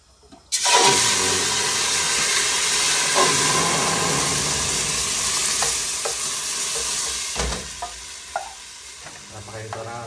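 Biko, sweet sticky glutinous rice, cooks in a wok while a utensil stirs it, giving a loud, continuous close sizzle with soft scraping strokes and occasional knocks against the pan.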